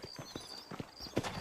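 Horse hooves clip-clop in a steady walking rhythm in the Western video game Red Dead Redemption. The footfalls are close and fairly soft, with a faint tonal hum underneath.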